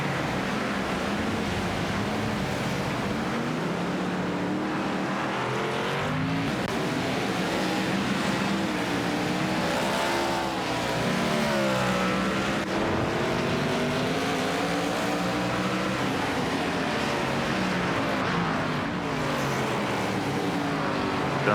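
The Wood Brothers Ford race car in a stock car series race at Montreal, with steady loud engine roar and pitch sweeps as cars brake and accelerate, sustained throughout.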